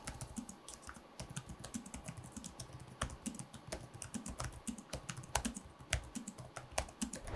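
Typing on the smooth membrane keyboard of a 2021 Dell XPS 13 9310 laptop, a quiet, close run of soft irregular key taps without any talk.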